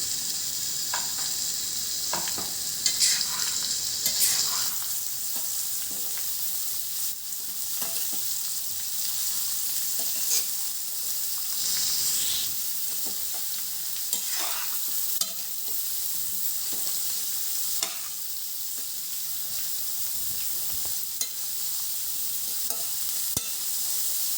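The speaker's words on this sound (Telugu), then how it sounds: "ఇలా మెత్తబడిన తర్వాత మనం కట్ చేసి పెట్టుకున్న క్యారెట్ని ఇందులో యాడ్ చేసుకొని కలుపుకోవాలి" Cut carrots for a Rayalaseema-style carrot fry sizzle steadily in a pan, with repeated close scrapes and clinks of stirring throughout and no talking.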